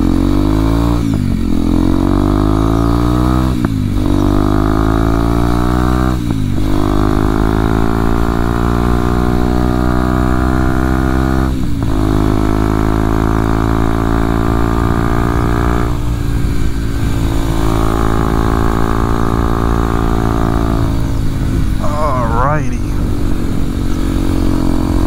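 A 2023 Kawasaki KLX 230SM single-cylinder motorcycle engine under way, its loud, steady drone rising in pitch as it pulls through each gear, then dropping sharply at several shifts, with wind rush throughout.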